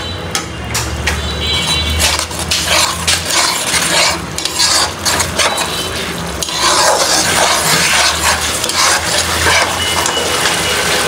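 Spices with coriander powder, cumin powder and salt are stir-fried in a pan with frozen beef, giving continuous scraping, clattering stirring strokes over a frying sizzle close by.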